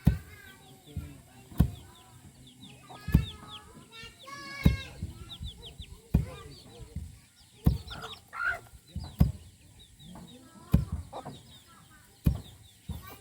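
Chickens and ducks cluck and call around a rural village home, near and irregular, with sharp repeated thumps like pounding and someone talking over the scene.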